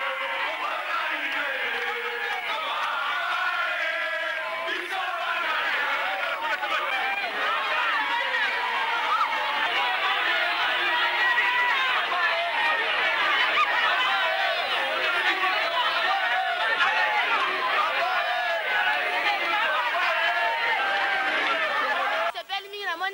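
A crowd of townspeople and students at an open-air market cheers and calls out joyfully, a continuous lively babble of many excited voices at moderate distance, steady throughout.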